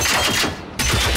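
Rapid bursts of gunfire in the video game Generation Zero, loud and close, firing in a quick volley that breaks off for a moment and then resumes.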